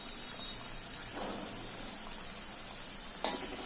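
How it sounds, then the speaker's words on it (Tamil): Food deep frying in hot oil, a steady soft sizzle and bubbling throughout with a brief sharp clink near the end, no voices. "இந்த மாதிரி டீப் ஃப்ரை பண்ணி எடுத்துக்கிட்டால் மட்டும் போதும்"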